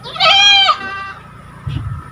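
A goat at a livestock handover event run by police in Banten gives one loud, close, wavering bleat, then a low rumble of background noise follows.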